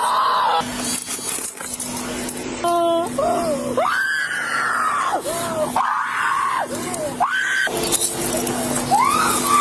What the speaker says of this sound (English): I can't take too much of this woman screaming like a dog on banshee